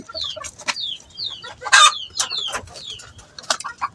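Several chickens cluck and chirp close by in short, irregular bursts, with a louder squawk in the middle.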